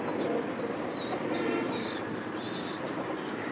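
Pigeons coo softly amid a dense, steady background of rustling and noise around a cage of large home-raised pigeons, with faint higher chirps drifting in and out over the few seconds.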